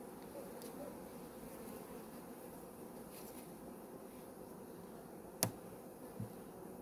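A dense, steady hum of many honey bees buzzing close by at an open horizontal hive while frames are handled, with a couple of sharp clicks near the end.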